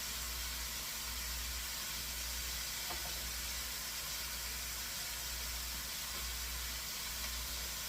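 Sausage browns in a pan for gravy, giving a steady, even sizzle that runs unbroken throughout, with a faint low hum underneath and no talking.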